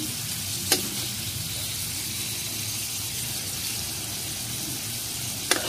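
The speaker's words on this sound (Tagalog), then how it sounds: "isasabay na po natin itong ating sibuyas at kamatis" Onion and tomato sauté in a pan for squid adobo cooked in coconut milk, giving a constant soft sizzle with two sharp clinks of a utensil against the pan.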